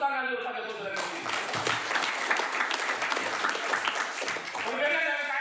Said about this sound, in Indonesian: Tepuk tangan dulu pada Jokowi dari sini.